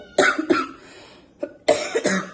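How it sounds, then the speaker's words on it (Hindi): Harsh coughing in two clusters, a pair of coughs, a short pause with a small throat sound, then another pair, close and loud. "घर तो वापस आ गए और मेरी ऐसी खांसी चालू हो गई कि मेरे से कुछ बोला ही नहीं जा रहा है"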